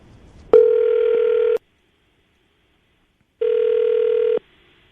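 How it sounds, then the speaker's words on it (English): Two long ringback tones sound on a phone line, each about a second long, separated by a couple of seconds of silence. "we're going to call her right now, see if we can get her on the phone"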